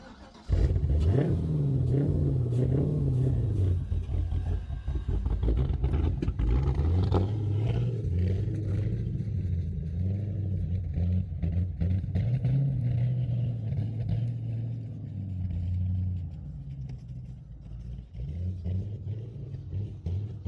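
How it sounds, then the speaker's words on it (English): An engine that had sat unused for three years idles with a deep, steady exhaust rumble, revving up a few times early on before settling into a continuous loud drone. "That sound of that exhaust was music to my ears."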